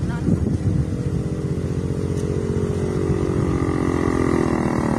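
A Honda Click scooter engine drones steadily and loud as it climbs a mountain road in Tagaytay, Leyte, with a constant buzzing hum and wind, while people talk over it.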